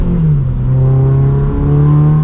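A Toyota GR86 manual sports car accelerates hard, its engine note rising steadily in a loud, close, sustained drone with a short dip as if shifting gear.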